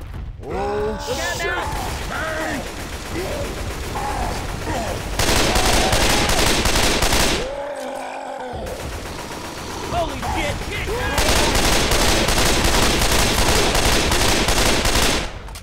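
Sustained automatic gunfire in Left 4 Dead 2 hammers on loudly in long dense bursts, broken by a brief pause, with shouted voices and game sounds mixed in near the start.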